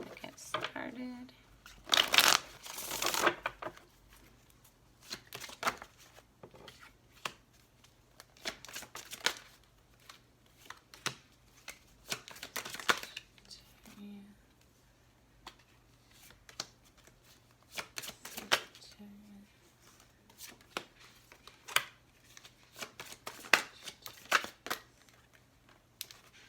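Tarot cards are shuffled in repeated bursts of papery riffling and slapping, close and fairly quiet, with pauses between rounds.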